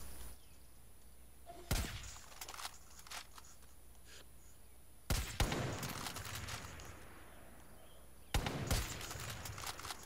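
Gunfire in the shooter game Far Cry, three loud broadband bursts of rapid shots, each followed by scattered trailing pops, over a steady low hum with no talking.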